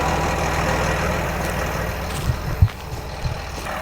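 John Deere 1038 tractor engine running while disking a field, a steady low diesel rumble with constant broadband rattle, close and loud, a few small knocks near the end, no talk.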